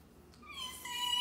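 A cat wearing a calming collar lets out one drawn-out, rising meow, close and clear, swelling in loudness toward the end in an otherwise quiet indoor room.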